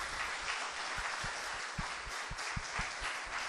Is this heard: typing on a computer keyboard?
no